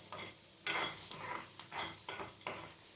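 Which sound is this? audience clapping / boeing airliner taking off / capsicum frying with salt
capsicum frying with salt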